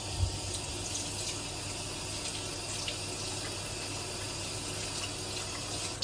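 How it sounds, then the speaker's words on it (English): Hands being washed under a running kitchen tap, a steady close stream of water splashing into the sink for several seconds, without any talking. "Just wash my hands, guys."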